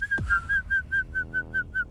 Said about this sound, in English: Can you hum and whistle?